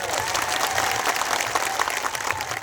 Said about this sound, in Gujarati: મારા સાથી સિનિયર ધારાસભ્ય અને હર હંમેશ સંઘર્ષશીલ એવા આનંદભાઈ પટેલ સાહેબ માટે જોરદાર તાળીઓ પણ લઈએ